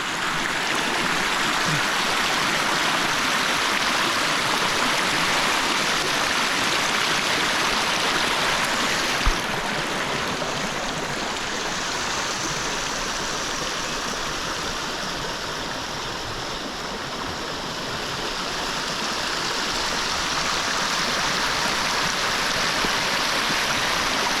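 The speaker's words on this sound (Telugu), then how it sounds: "చూస్తున్నారు కదా వాగు ఇదే వాటర్ మొత్తం అంతా అక్కడ వస్తుంది" Steady rushing of a stream flowing through a tribal village, a continuous broadband wash of water that stays even and close for the whole stretch, with no voices over it.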